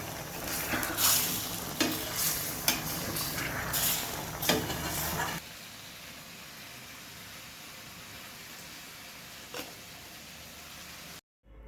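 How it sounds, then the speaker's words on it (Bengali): Beef and potatoes being stir-fried in a pan during kosha cooking, with loud scraping stirs and sizzling for about five seconds, then a softer steady sizzle that continues alone to the end. "আবারও কষিয়ে রান্না করে নিচ্ছি।"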